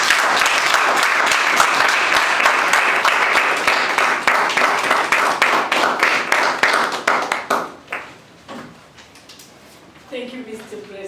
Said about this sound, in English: With a thunderous round of applause, shall we give it up for Toastmaster Nancy Marsh?